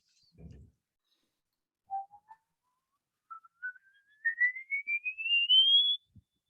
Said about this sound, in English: He's still whistling.